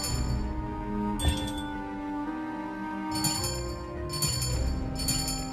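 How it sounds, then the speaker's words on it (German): Bells rung in sequence in the puzzle game Dark Parables, producing several bright metallic chimes in separate bursts, each followed by a sustained ringing tone that overlaps a soft musical background. "läute die Glocken in der richtigen Reihenfolge"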